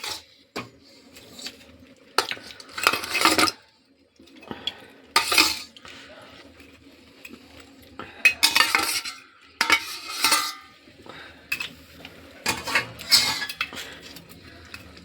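Fried katla fish heads are stirred into cabbage in a pan, with loud bursts of utensil scraping and clanking against the metal that come and go between quiet pauses, over a faint sizzle.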